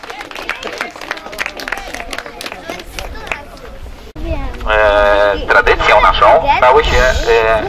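A studio audience breaks into loud sustained applause and cheering on a Polish TV show, following a stretch of music and background talk; the clapping stays dense and close, filling the second half.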